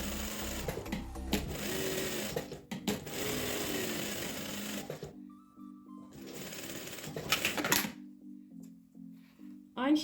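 A sewing machine stitches a child's dress in loud, close bursts of rapid mechanical whirring, stopping and starting between pauses. A voice talks between the runs.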